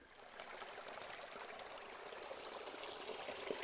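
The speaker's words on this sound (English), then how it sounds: "The spring's actually piped and really easy to collect from." Cold mountain spring water runs from a pipe on a trail in Washington, a steady splashing trickle that holds constant and grows slightly louder toward the end, with no talk over it.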